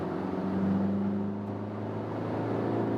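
A 2016 Suzuki Vitara AWD engine pulls steadily under acceleration in third gear from 80 to 120 km/h, a continuous droning hum with road noise heard from inside the cabin, no talking.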